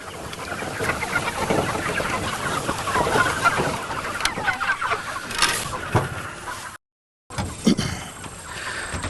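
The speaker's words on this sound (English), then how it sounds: "the birds just walk on the pasture" Chickens on a regenerative pasture farm cluck steadily as they walk across grass, a continuous mid-level flock chatter with a brief gap of silence near the end before the clucking resumes.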